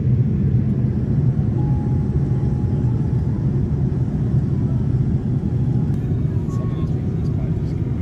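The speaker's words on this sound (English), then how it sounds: "As we make a final approach towards Changi Airport," Economy cabin of a Singapore Airlines Boeing 787-10 on final approach to Changi Airport: a loud, steady low engine and airflow rumble fills the cabin without letup.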